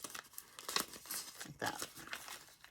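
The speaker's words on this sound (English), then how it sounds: "I just cut out a little triangle" Scissors cutting a small triangle out of paper for a lunch-bag pocket journal, close and quiet rustling and crinkling snips in an irregular rhythm with no talk.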